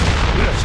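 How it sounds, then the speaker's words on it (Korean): A loud, dense blast from the video game Dead Rising 4 fills the moment, a heavy booming roar that stays strong throughout with no clear decay. "자, 약한 부분을 찾아서 폭발시킨다."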